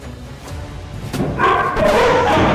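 A guard dog barks and yips at a thief on a car roof, a few sharp barks rising in loudness and pitch toward the end, close and unaccompanied by talk.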